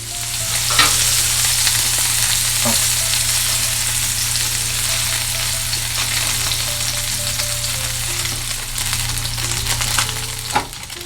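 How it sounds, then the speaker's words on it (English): Steady, loud sizzling of tuna searing in a very hot frying pan with vegetable oil, with a constant crackle and a few sharper pops throughout. "It's very important you sear the tuna with extremely hot frying pan and vegetable oil."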